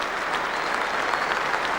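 A big Lord's Cricket Ground crowd rises for Inzamam-ul-Haq after his innings in the 1996 Test against England, a steady roar of clapping hands at constant volume with no pause.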